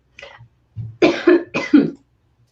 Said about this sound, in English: of a sudden I have the cough.